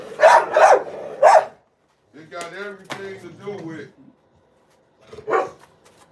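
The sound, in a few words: dogs barking in cages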